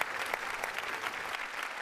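A studio audience at a Marathi comedy show claps steadily, a dense patter of applause throughout, fairly loud and continuous with no voices over it.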